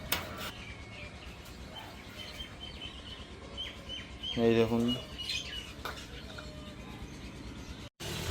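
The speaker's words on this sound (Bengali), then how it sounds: "এই দেখুন আমাদের কোয়েল পাখিগুলো" Pet quails kept at home give a brief, bright call partway through, rising over background noise while someone speaks nearby.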